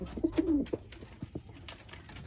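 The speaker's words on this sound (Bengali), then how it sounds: "খুব বড় সাইজের পায়রা, খুব সুন্দর কোয়ালিটির পায়রা" Big-sized pigeons in a loft give low throaty coos, a few rolling calls close by with soft rustling and faint background noise, and no talking over them.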